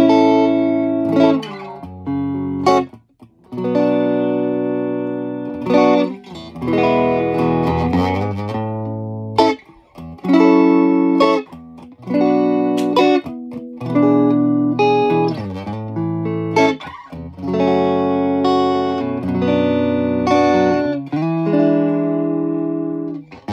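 Clean electric guitar plays through an Allen Amps Classic 10 tube amp with EL34 valves, ringing notes and strummed chords with brief pauses between phrases, close and clear throughout.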